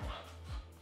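A dog gives two short, close barks spaced about half a second apart, indoors.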